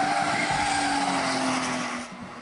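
A modified street car does donuts at night, its tires skidding and squealing continuously over a loud revving engine, the sound tapering off slightly at the end.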